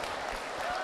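A brief wash of audience applause at a school matriculation ceremony for first-year gymnasium students, dense and steady for under a second, with a voice faintly over it.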